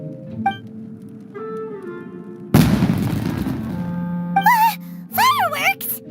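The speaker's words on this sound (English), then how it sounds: "It sounded like fireworks." Fireworks burst in a fantasy adventure video game, a loud crackling blast for about two seconds amid game music and sound effects, with short character vocalizations afterward.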